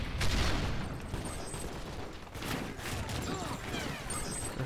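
Gunfire in Call of Duty: Modern Warfare 3 gameplay, a continuous rattle of shots and booms from the game under a loud steady mix, with a player's voice talking over it.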